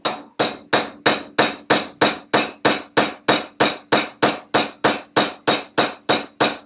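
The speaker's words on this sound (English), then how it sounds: "I want to keep trying to get this rivet into this piece of wood" A hammer strikes a rivet set against a piece of wood in a steady, evenly spaced series of about eighteen loud, sharp blows, each ringing briefly before the next.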